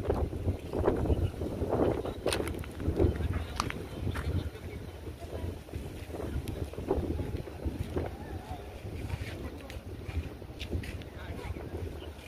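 Steady wind buffeting outdoors with a low rumbling roar, constant throughout, with faint voices and water-like noise mixed underneath.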